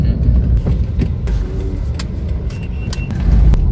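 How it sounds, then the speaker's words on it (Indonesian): A car drives out nearby, a loud low engine rumble with scattered clicks and knocks, swelling slightly toward the end. "Itu mobil."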